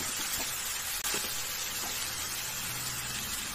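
Marinated mutton poured into a hot pan for mutton kosha, giving a loud, continuous sizzle with a brief splashing onset and faint stirring clatter, close up and without talk.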